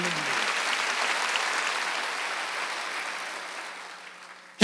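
A church congregation at a Wednesday worship service claps in a steady wash of applause that slowly thins out, ending with a sudden loud sound.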